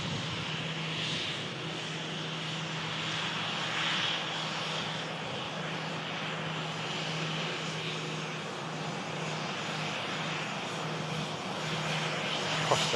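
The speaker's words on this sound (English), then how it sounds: "we have a Jet2 737 about to come into shot" A Jet2 Boeing 737 taxis out at Manchester Airport, its engines a steady, moderately loud roar that holds evenly with no voices.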